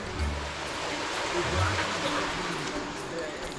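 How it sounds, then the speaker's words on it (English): Steady rushing water with a broad, even roar from an underground river flowing through rock at Natural Bridge State Park, continuous throughout with a slight low rumble. "Apparently there's a river in the rock."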